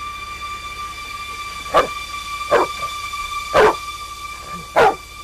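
A dog indoors at a house gives four sharp, loud barks spaced roughly a second apart over a steady low hum, with no talking.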